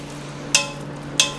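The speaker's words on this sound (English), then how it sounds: "you could just grab with your tongs here, kind of give us a little turn, kind of grind that pork up a little bit just like this" Tongs working cooked pork in a pot of pork and beans: two sharp metallic clicks about half a second apart over a low steady hum, close and distinct.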